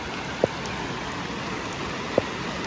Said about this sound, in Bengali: কিন্তু আমাদের এখানে বৃষ্টি হচ্ছে